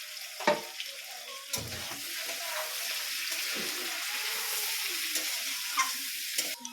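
Chili chicken sautéing in a covered pan gives a steady, close sizzle throughout, broken by a few soft knocks and bumps of the lid or utensil.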